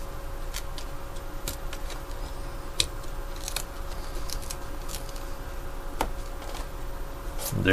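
Scissors slicing through sketchbook material during DIY sketchbook making, a steady run of close, crisp snips and scraping cuts with no talking.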